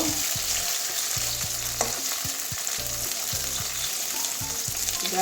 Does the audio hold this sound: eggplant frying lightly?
yes